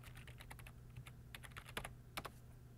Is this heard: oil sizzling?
no